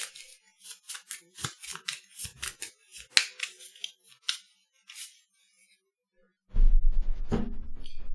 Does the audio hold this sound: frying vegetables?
no